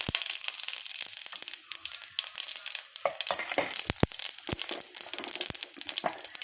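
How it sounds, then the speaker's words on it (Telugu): Spices are tempered in hot oil for a sweet potato curry, giving a steady crackling sizzle with sharp pops throughout. "ఇప్పుడైతే పోపు పెట్టేసుకుందాం"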